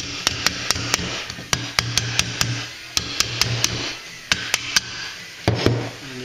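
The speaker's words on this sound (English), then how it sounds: "give them a tap with a hammer to move them off." A series of sharp hammer taps knocking metal caps off a Triumph TR3A pedal box, about fifteen quick metallic knocks in uneven bursts, close and crisp over low background noise.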